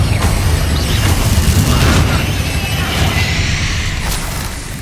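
A Confringo fire spell explodes in Hogwarts Legacy, giving a loud, sustained booming roar that rumbles for several seconds and slowly fades.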